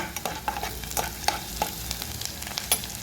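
Onions and green chillies frying in oil for a ridge gourd curry, a soft sizzle broken by repeated scraping strokes of a spatula against the pan, close and unhurried.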